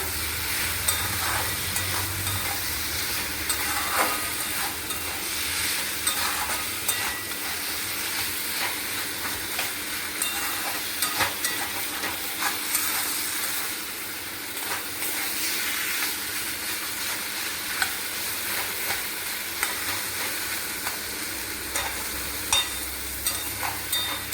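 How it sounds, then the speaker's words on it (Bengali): Teasel gourd curry sizzles steadily in a pan with spices and a little sugar, a close continuous frying hiss punctuated by frequent scraping and clinking of stirring throughout, without talking. "দু 3 মিনিট ভাজবো আর একটু।"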